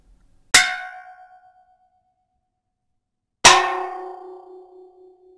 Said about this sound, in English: I pulled the can out and began striking it in various ways